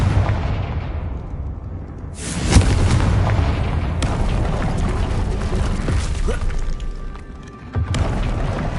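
In the Hogwarts Legacy video game, the Confringo spell sets off a deep, booming explosion, followed by loud rumbling blasts and crackling debris that keep sounding for several seconds.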